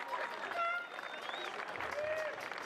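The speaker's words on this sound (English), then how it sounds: "Ladies and gents, one more round of applause for Guadalupe, please." Crowd applause and cheering for the Guadalupe team at a Caribbean Cup rugby celebration, a dense steady wash of clapping with whistles and raised voices mixed in throughout.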